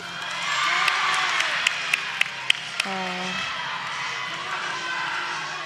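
Gymnastics teammates cheering and whooping from the sidelines at a college meet, lively crowd noise with sharp claps and shouts, voices mixed in throughout.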